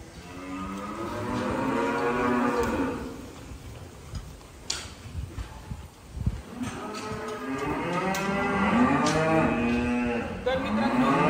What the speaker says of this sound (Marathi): ह्या सध्या मिल्किंग काऊज आहे आणि ह्या प्रेग्नेंट गायी आहेत